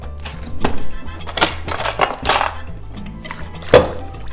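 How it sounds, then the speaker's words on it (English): Orange juice and achiote paste marinade whisked in a bowl, irregular close clinks and taps of the whisk against the bowl, with short scraping bursts and pauses between. "I'm gonna go ahead and mix this up with a whisk."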